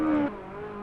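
A short high tire squeal from a racing car in the racing game Assetto Corsa, cutting off after a moment into a steady engine drone.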